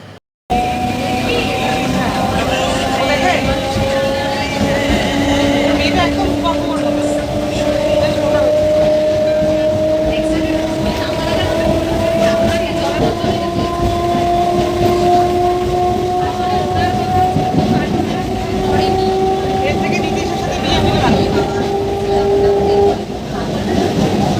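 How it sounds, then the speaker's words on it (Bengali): A train pulls out of Hridaypur station near Kolkata, loud and close, its long sustained horn tones sounding over continuous rumbling wheel and carriage noise for the whole stretch. "এই যে হৃদয়পুর স্টেশন থেকে ট্রেনটা ছাড়লো"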